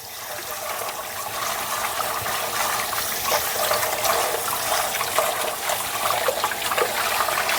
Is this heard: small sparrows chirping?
no